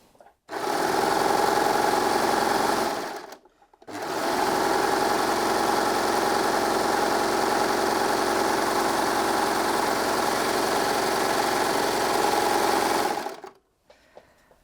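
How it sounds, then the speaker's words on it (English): A Baby Lock Desire 3 overlocker sewing a rolled hem on cotton fabric runs in a fast, steady mechanical whir, with a brief pause before the motor starts up again for a longer continuous run, then stops. "I'm just going to take this piece of cotton fabric and sew a rolled hem or rolled edge"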